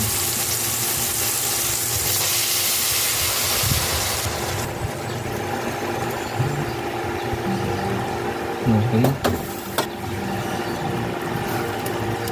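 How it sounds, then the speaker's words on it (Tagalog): Mung beans sizzle while being sautéed in a pan, a steady loud frying hiss that continues throughout, with faint stirring and a few brief clinks. "pwede na natin ilagay ang munggo"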